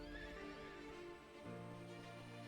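A horse in the Myth of Empires video game neighs in a loud, wavering whinny that rises and falls over a couple of seconds, with game ambience underneath and no talking.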